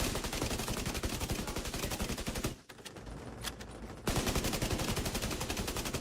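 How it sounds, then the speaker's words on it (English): Rapid automatic gunfire rattles loudly in The Division 2, dense bursts of shots that stop briefly for about a second and a half before resuming at full intensity, with no talking. "Okay, I can shoot now."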